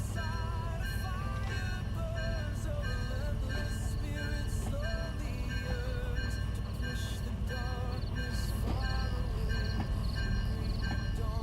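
A train in the Derail Valley game rumbles steadily along the track, a constant loud drone with tonal hums and squeals throughout, no pauses.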